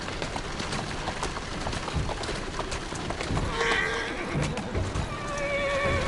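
In the video game Assassin's Creed Syndicate, hooves keep up a steady clip-clop under dense ambient noise while a horse lets out a couple of clear, high whinnies in the latter half.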